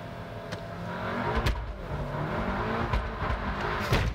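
A turbocharged car engine revs up toward high rpm, rising and swelling with sharp clicks and knocks around it, heard from inside the car.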